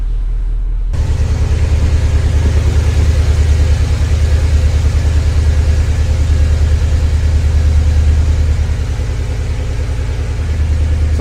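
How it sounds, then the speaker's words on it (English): A Porsche Cayenne Turbo with a secondary catalytic converter bypass idles with a steady, deep exhaust rumble. It starts abruptly and holds loud and even for about ten seconds, close by, with no talking. "nice rumble sound coming from the exhaust"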